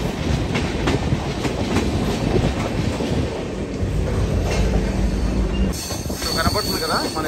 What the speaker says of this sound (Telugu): సో ట్రైన్ అయితే ట్రాక్ చేంజ్ అవుతుంది